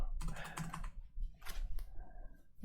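Typing on a computer keyboard while writing code, with quick irregular bursts of close key clicks separated by short pauses.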